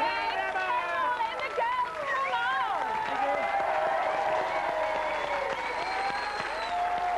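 A studio audience on a British TV entertainment show applauds steadily throughout, with cheers and crowd noise, while a voice speaks over the clapping.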